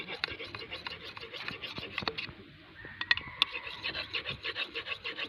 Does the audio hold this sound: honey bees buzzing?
no